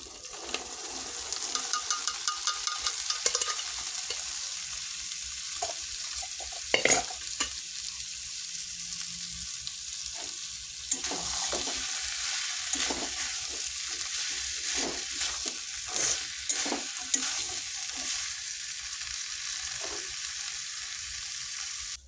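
Peas and potatoes fry with spices in a pan, a continuous soft sizzle under repeated spatula scrapes and stirring clinks that grow busier toward the end, close and moderately loud.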